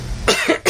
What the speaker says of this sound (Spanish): Tengo, eso sí, una tos